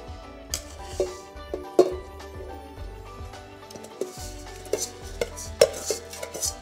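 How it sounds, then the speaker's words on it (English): Pork pieces go into hot oil in a Fissler Vitavit pressure cooker, with a low sizzle under clanking metal tongs and pot knocks, close and irregular. "My oil is hot, so let's add the meat."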